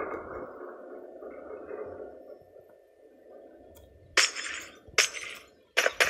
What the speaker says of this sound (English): Let's just break this, because we don't need glass.